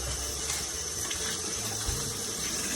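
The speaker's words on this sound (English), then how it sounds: "I like to squeeze a little soap on the outside and rinse it off before I cut it" Tap water runs steadily over a pineapple, rinsing soap off its outside, a close, continuous gushing splash with no talking.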